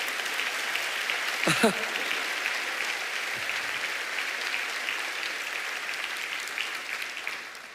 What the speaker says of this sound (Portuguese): Vamos aplaudir com a nossa irmã a palavra de Deus.